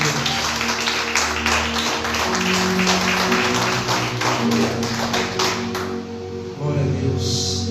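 Church congregation clapping, a dense continuous patter of many hands at moderate distance, with music and a voice in the background.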